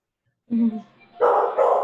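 A dog indoors lets out a short whining yelp, then two loud, close barks in quick succession.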